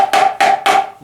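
Three sharp drumstick strikes on a drum or pad, played with a tight grip, each with a choked, dull ring, evenly spaced and close.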